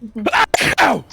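A single close, loud sneeze bursts out amid a short vocal exclamation during a tabletop game session.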